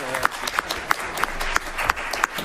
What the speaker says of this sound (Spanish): Yo sabía que iba a ser el aplauso más sonado.